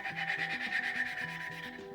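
Steady gritty rubbing of valve lapping compound seating valves in a Subaru 2.5 cylinder head, a continuous smooth scouring with a faint repeating back-and-forth rhythm, close and even, no voices.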